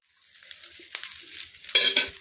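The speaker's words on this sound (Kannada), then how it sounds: "ಈಗ ಐ ಫ್ಲೇಮಲ್ಲಿ ಉತ್ತಪ್ಪನ ಬೆನೆಸ್ಕೊಂಬಿಡೋಣ" An uttapam fries on a pan over a high flame, a soft steady sizzle that grows slightly louder, with a brief scrape of a utensil near the end.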